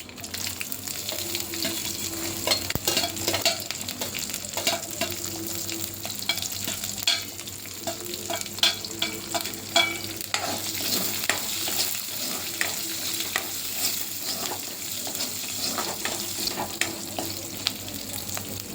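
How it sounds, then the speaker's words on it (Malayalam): Garlic cloves and fenugreek seeds fry in hot oil for a tamarind pickle, crackling and sizzling steadily throughout with scattered stirring scrapes and clicks, close by and with no voices. "ഇനി നമുക്ക് വെളുത്തുള്ളി ഇട്ട് കൊടുക്കാം."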